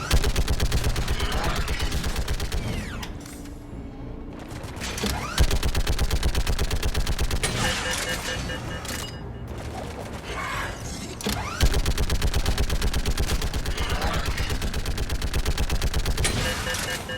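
Rapid automatic gunfire from weapons in the shooter game Mass Effect 3, loud and sustained in long bursts with brief pauses, mechanical clatter mixed in.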